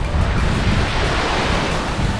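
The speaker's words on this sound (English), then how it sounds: "Waves still crashing in." Ocean waves crash steadily on the shore at a Duluth campsite, a loud continuous roar of surf mixed with gusting wind buffeting the microphone, with no voices.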